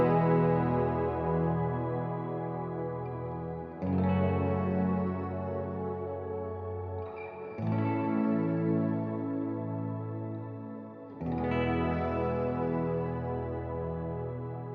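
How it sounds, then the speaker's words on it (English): Electric guitar played through a shimmer reverb with the mix and decay turned up, from a first pedalboard build. Four swelling strummed chords ring out in turn, each trailing off into a long, bright, sustained tail, loud and alone with no voices. "So with the shimmer on."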